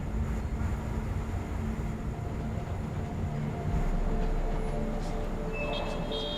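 A train in the Spider-Man Remastered video game, a loud continuous rumble and clatter of rolling rail cars with faint high squeals near the end, no voices over it.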